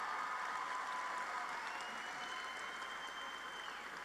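Sustained applause from the audience at a university commencement for nursing and health sciences graduates, a dense steady clapping at moderate distance, with faint whistles or cheers riding over it.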